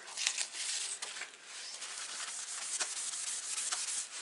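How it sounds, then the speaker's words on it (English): A tissue rubs briskly over gold spots on a stamped paper card. Soft, close, papery scrubbing strokes repeat quickly and unevenly for a few seconds, with no talking. "I'm just buffing up those beautiful gold spots so they come back out to play"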